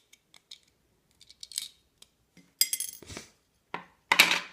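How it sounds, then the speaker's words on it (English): Small screws from a NERF Crossfire blaster rattle and clink into a dish in a few sharp, close metallic bursts separated by brief quiet gaps. "Dump the screws in your dish if they'll want to come out of it."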